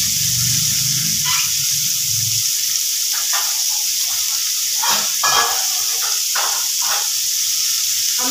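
Rice frying in a pan gives a steady bright hiss, with intermittent scraping and sizzling bursts as it is moved around, close and fairly loud with no voices.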